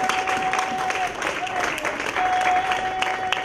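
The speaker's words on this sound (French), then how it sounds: "Est-ce que nous pouvons donner une très bonne main d'acclamation à notre Dieu?" A church congregation claps together in a steady, dense round of applause for several seconds, with a thin sustained tone running faintly beneath it.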